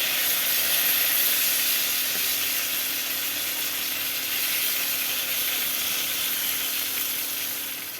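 Pointed gourd pieces, just turned over, sizzle in hot refined oil with a loud, even, hissing crackle that holds steady and eases off slightly toward the end, with no voices.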